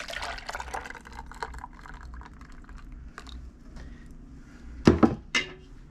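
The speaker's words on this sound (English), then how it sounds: "We're going to pour it into our mixing cup." A Parmesan cheese mixture is poured into a mixing cup. A light liquid pour comes with small clicks and knocks of the containers, then a short louder clatter near the end, with no talking.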